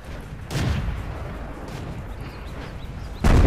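Two heavy booms from the Pz.Sfl.IVc self-propelled gun in World of Tanks, one early and one at the end, separated by a few seconds of low rumbling battlefield ambience.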